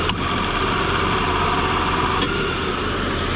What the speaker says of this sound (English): you can see that AC compressor. Watch the clutch kick on and off.